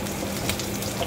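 Garlic sautéing in hot oil in a pan gives a dense, close crackling sizzle with a few sharper spitting pops in a short burst, with no talking over it.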